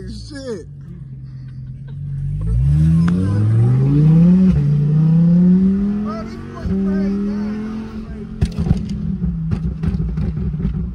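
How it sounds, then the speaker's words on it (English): A car engine revs up hard in rising sweeps that climb for several seconds and then hold steady. Excited voices shout over the engine throughout, and a few sharp clatters come near the end. "Rev it up! Rev it! Rev it up!"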